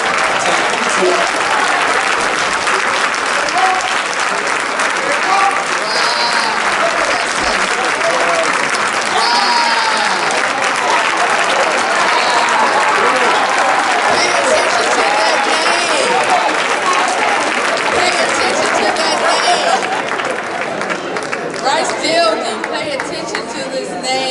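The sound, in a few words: audience applause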